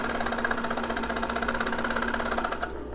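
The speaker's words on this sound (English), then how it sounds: "I'm just going to serge right down and then serge this in" Serger sewing machine stitching a fabric pocket, running continuously at a fast, even whirring rhythm close to the mic throughout, with no talk.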